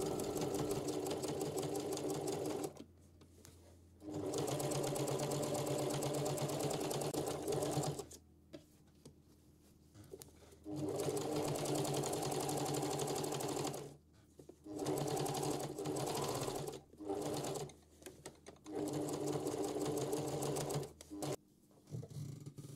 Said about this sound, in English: And then we top stitch them in place.